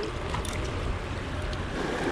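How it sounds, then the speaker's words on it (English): A boat paddled down rapids on the Winnipesaukee River, a loud, constant roar of rushing whitewater up close with no talk and no separate paddle strokes. "Paddling down the rapid."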